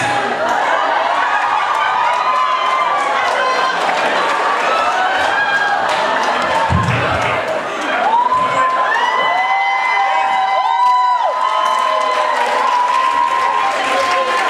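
At a Supernatural fan convention in Rome, the audience keeps up steady applause while shouts, whoops and high cheering voices rise and fall over it. One brief lull comes partway through before the noise builds again.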